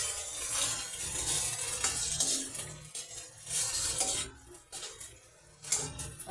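Food sautéing in a pan while a ladle stirs it, a steady close sizzle broken by scraping and clinking of metal on the pan, with no talking.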